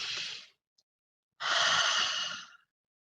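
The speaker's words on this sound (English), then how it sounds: "exhale out of your mouth with an ah sound like this." A deep breath let out through the mouth with an open ah sound, a short exhale followed by a longer, louder sighing release after a brief pause, close and alone.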